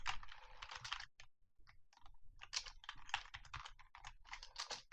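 Rapid clicking of a computer keyboard as code is typed, with quick bursts of keystrokes and brief pauses, close and clear with no talking.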